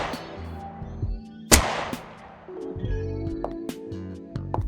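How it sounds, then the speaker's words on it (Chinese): A single gunshot sound effect rings out as a sharp, loud crack with a decaying tail, set against steady tonal background music with a few softer knocks. "开枪"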